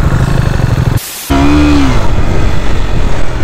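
Single-cylinder four-stroke engine of a 2019 KTM Duke 125 motorcycle, loud and close, throbbing steadily, cutting out briefly, then rising in a short rev before settling back to a rough idle.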